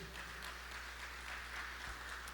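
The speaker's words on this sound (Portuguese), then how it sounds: "Você pode aplaudir Jesus" A church congregation claps continuously during a Baptist service, a dense patter of applause heard from a distance with no talking.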